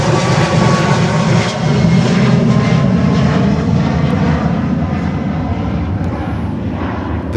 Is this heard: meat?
no